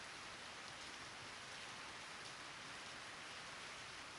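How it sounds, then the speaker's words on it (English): Steady rain hits asphalt outside a dimly lit lobby in The F Files 2 video game, an even, unbroken hiss at low level with no talking. "I can hear the rain hitting the asphalt outside."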